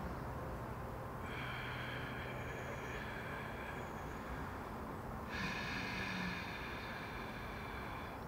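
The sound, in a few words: breathing exercise, exhaling and inhaling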